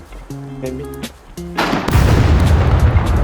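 In the SCUM survival game, a few tonal beeps give way to a sudden heavy boom as an RPG fires, followed by a second blast and a loud, sustained rumbling roar.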